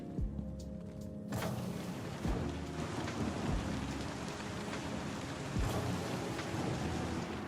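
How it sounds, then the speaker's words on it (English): Heavy rain pours steadily with rolling thunder and sharp cracks in the video game Star Citizen, where water leaks into a structure; the storm sounds loud and close, with no talking. "Raining water's getting to the structure."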